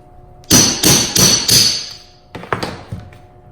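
Four sharp, ringing metal hammer blows from a hammer and dolly land in quick succession, then a pause and a faster cluster of lighter taps, close and loud.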